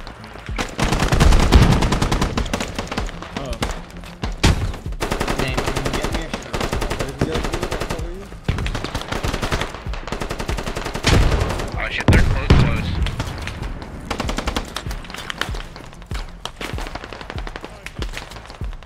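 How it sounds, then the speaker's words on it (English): Rapid, sustained machine gun fire and scattered gunshots from a video game battle, loud and close with occasional booms, continuing through most of the span alongside intermittent talking. "Oh god, this is a machine gun."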